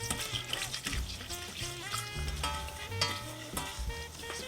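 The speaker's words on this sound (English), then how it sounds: "It's come to a boil now." A pot of cocoa boils, bubbling and sizzling as a spoon scrapes and stirs steadily, with music playing over the cooking sounds.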